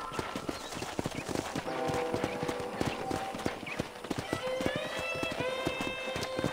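Horse hooves clop rapidly and steadily during riding in the Red Dead Redemption Remastered video game on PC, a close galloping rhythm throughout, with tonal game sounds rising near the end.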